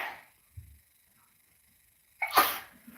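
A single sharp sneeze bursts out near the end, preceded by a short inhale and a small thump, otherwise quiet.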